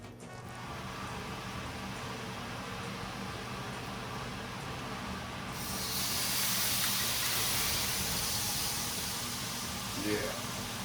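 Steady hissing from a tabletop flambé burner while cooking steak Diane, the rush swelling louder and brighter about halfway through as the flame builds, with a faint clink near the end and no talking.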